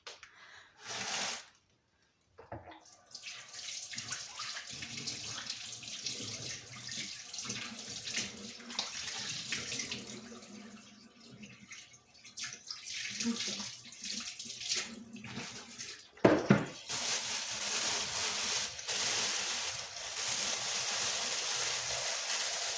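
A kitchen tap runs while fish is rinsed under it. The close splashing starts and stops several times in longer and shorter stretches, with brief handling noises in between.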